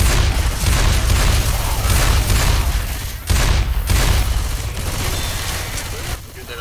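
Gunfire and booming blasts in the zombie shooter game Left 4 Dead, Dark Carnival campaign, loud and continuous, with a brief gap in the middle and a drop near the end.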